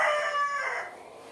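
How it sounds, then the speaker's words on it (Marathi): Desi hens cluck and a rooster crows in a closed poultry shed packed against the cold. The crow is loud and close, with a tonal rising call that fades after under a second. "माझ्याकडे या 50 देशी कोंबड्या आहेत"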